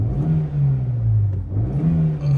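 Small 1.2-litre four-cylinder 16-valve engine in a 2008 Renault Clio starting up and revving, loud and close, with the pitch rising and falling over a few blips and no voices.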